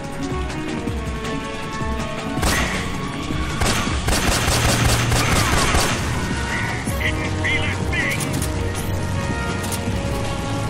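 Gunfire in Metal Gear Solid 3 over a steady backdrop of game noise and music, with bursts of rapid shots and heavier booms at intervals, partly under a player's voice.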